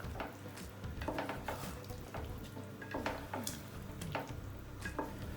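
Palak chicken curry gets stirred in a pan, with repeated scraping strokes of a spoon against metal over a low, steady sizzle, close and fairly quiet.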